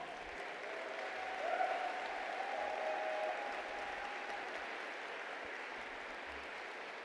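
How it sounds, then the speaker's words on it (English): An audience at a ministerial summit gives a youth choir from South Africa a steady round of applause, moderately distant and even, swelling briefly near the start before holding level. "Another generous round of applause to the South Africa Youth Choir."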